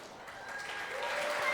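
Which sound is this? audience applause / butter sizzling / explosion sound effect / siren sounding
audience applause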